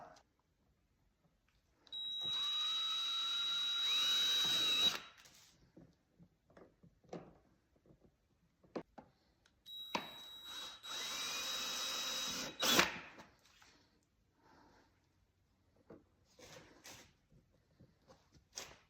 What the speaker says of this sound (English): Drill those out with a 1/8 inch drill bit, put screws in